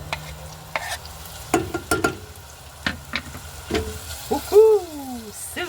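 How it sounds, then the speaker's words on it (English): Onions frying in a pan for corned beef hash, a soft sizzle punctuated by several sharp stirring scrapes and clanks, close by, with a brief vocal sound near the end. "Sizzle, baby, sizzle."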